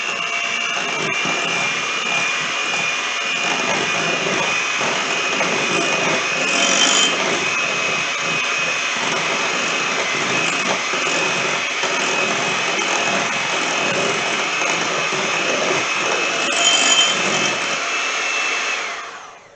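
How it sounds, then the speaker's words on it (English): An electric mixer whirs loudly and steadily for nearly twenty seconds while blending keto recipe ingredients, with slight shifts in pitch as it works and a sudden stop at the end. "We're going to mix this really quick."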